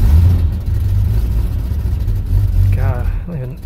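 A 1989 Jeep Cherokee engine, just fitted with a Banks Revolver header, runs at a steady low rumble close by, with a brief rise near the end and a short voiced sound over it.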